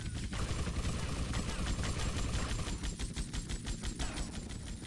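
Dense continuous gunfire in the video game GTA: Vice City, a rapid rattling fusillade that stays loud and steady throughout with dense noisy game effects.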